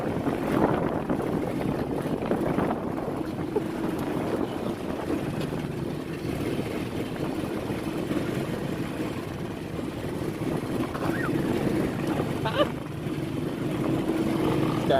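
A Duromax 440cc Kawasaki Mule UTV drives across a frozen lake, its engine a steady low droning hum mixed with wind rumble, continuous and fairly close throughout.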